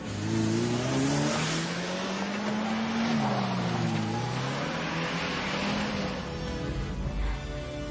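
A car engine in an action film revs and rises in pitch as the vehicle pulls away and accelerates, loud and steady with shifting tones through the gears.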